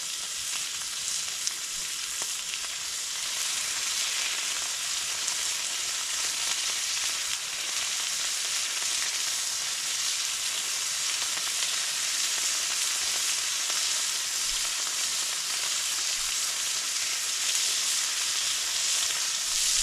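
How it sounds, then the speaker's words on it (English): Loud, continuous sizzling and spitting of meat frying in a hot pan over a campfire, a dense crackling hiss with no talking. "Let's try, see how much sizzle we get."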